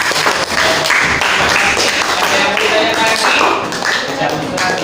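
Sixth-grade classroom applause for a presenting group, many hands clapping in a loud, busy patter for several seconds, with scattered tapping and shuffling and voices mixed in underneath.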